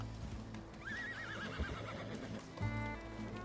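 A horse in the video game Red Dead Redemption 2 gives a loud wavering neigh, with hoof clops and game ambience around it, close to the listener and without talk.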